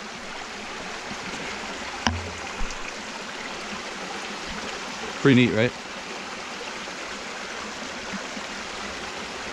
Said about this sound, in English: So here's the creek.